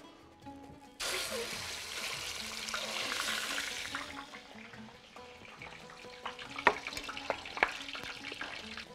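Duck stuffed with freekeh cooking in a pot with onion, carrot and a bouquet garni, a steady close sizzle and bubbling hiss that fades, followed by a few utensil clinks.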